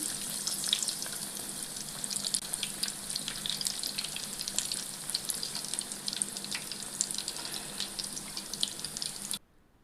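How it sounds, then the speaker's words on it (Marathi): Aloo-stuffed onion bread pakoras deep-fry in hot oil, a steady dense sizzle and bubbling hiss that runs loud and unbroken until it cuts off abruptly near the end, with no talking. "तेल चांगलं गरम तापलं की हे आपले पकोडे जे आहेत ते आपल्याला तेलामध्ये छान फ्राय करून घ्यायचं आहे"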